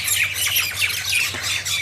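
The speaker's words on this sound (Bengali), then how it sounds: "সেই শিমুল গাছের এখানে দেখতে পাচ্ছেন পাখিরা মারামারি করছে নিচে বসে" Birds fight on the ground beneath a silk cotton tree, giving a rapid run of harsh, close squawks that overlap in quick bursts and carry no talk.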